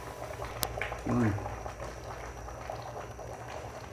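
A pot of white beans with beef pata seasoned with fish sauce and pepper bubbles at a steady simmer, soft gurgling under a voice talking nearby.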